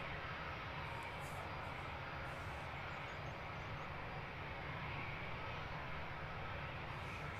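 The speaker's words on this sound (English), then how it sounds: "Number 2 to depart. Aviate jet Falcon 2000." A Falcon 2000 business jet departs Luton Airport, its engines making a steady, broad roar that holds at an even loudness throughout with no voices.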